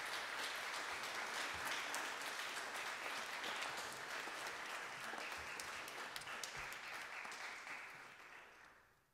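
Concert audience at a jazz studio orchestra composers' concert applauding in a steady, dense wash of clapping that holds for several seconds and then fades away.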